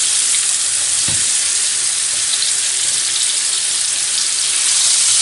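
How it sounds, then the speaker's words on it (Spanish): Onions frying in oil, a loud dense hiss of sizzling that stays steady throughout, close up, with a single low thump early on. "ahora en este aceite vamos a echar las cebollas"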